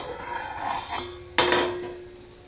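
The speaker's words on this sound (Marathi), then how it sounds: "मी आता झाकण काढते।" A metal lid lifted off a pan of bitter gourd curry on the stove in a home kitchen, with a soft scrape and then one sharp clank followed by a short ringing tone that fades, heard close with no talk.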